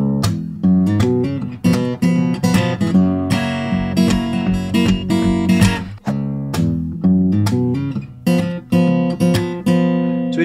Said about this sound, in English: he always plays this transition riff right before he changes chords.